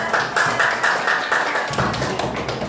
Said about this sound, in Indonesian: Tepuk tangan untuk ketua.